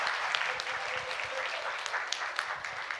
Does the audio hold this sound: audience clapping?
yes